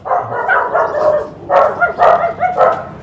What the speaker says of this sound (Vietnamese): nuôi chó rất là nhiều nha cô bác anh chị